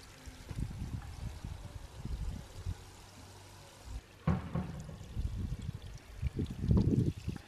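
Water poured over houseplants at home, a soft trickling splash in short bursts that is fairly faint and close, with quiet gaps between pours.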